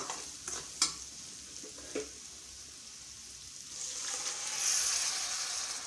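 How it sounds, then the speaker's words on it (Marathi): Soaked masoor dal goes into a pan and is stirred, with a few soft scraping clinks early on, then a gentle, rising sizzle near the close; quiet throughout. "आपली जी मसूरची डाळ आहे भिजलेली ती यामध्ये आपण टाकूया"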